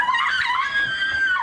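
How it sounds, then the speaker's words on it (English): A realtor being attacked at an open house in Los Angeles screams, high and strained, one sustained wailing cry that rises and wavers, loud and close. "Blood-curdling screams that are hard to hear"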